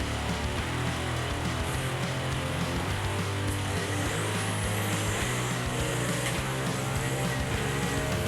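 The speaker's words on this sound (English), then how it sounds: "the roaring engines shatter the silence of the forest" A heavily loaded timber truck carrying massive logs grinds through deep potholes and thick mud on a forest road, its engine roaring loud and steady for the whole stretch with no voices.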